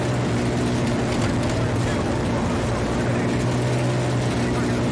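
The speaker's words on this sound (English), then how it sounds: "Oh, you got a chopper gunner?" A chopper gunner helicopter in a video game gives a continuous droning rumble with steady low engine tones, filling the whole moment at constant loudness.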